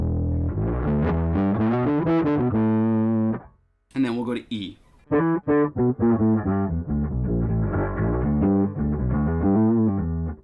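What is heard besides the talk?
gritty distorted synth tones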